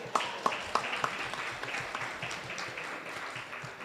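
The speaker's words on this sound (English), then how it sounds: "We should clap for that." Audience applause at a state legislative talk, opening with a few sharp, distinct claps before settling into a steady, moderately loud round of clapping.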